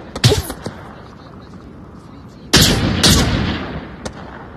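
Gunfire in the VR shooter Onward on Meta Quest 3: sharp, loud cracks in scattered bursts, one early and a cluster later with a quick follow-up, over low background game noise.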